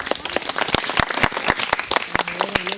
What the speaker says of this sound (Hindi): तालियां बच्चे।